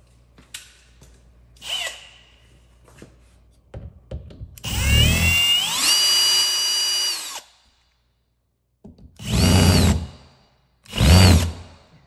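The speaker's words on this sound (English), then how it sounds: "We got that one drilled in." A power drill bores into a wall in short bursts, one long whining run with rising pitch followed by two brief spurts, close and loud between quiet pauses.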